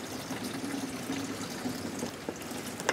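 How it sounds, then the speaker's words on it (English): Filtered water from a Lifesaver jerry can hose pours and trickles steadily into a can, a close, continuous splashing stream with a few small knocks near the end. "Gets my filtered water in there."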